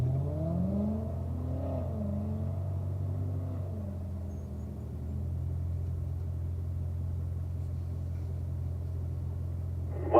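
Corvette on a closed driving course braking exercise, its engine rumbling steadily at a moderate distance, with a rise in revs early on and a sustained mid-range drone before a sudden sound at the very end.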